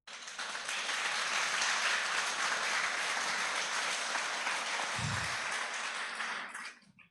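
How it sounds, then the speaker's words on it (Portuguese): A church congregation applauds at the close of a conference service, a dense, steady wash of clapping that holds loud for several seconds, then trails off near the end. "Palmas para Jesus, igreja."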